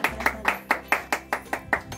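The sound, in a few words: clapping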